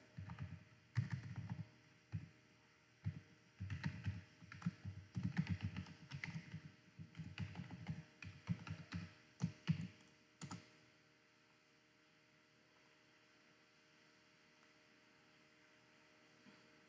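Rapid clicking of fingers typing a username and password on a computer keyboard, in irregular bursts for about ten seconds, then near silence.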